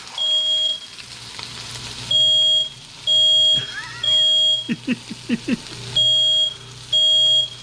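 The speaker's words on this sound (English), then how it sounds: "Fire alarm's going off." Smoke alarm sounds in a kitchen while red snapper fillets fry, with loud, piercing beeps in repeated bursts over constant sizzling, plus a few knocks of a utensil between beeps.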